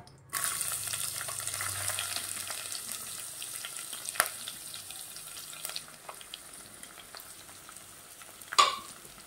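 Onion and mustard seeds fry in oil in a pot for Maharashtrian masale bhat. A sharp sizzle begins suddenly and runs steadily, with a few clicks and pops and a loud scrape near the end. No talking.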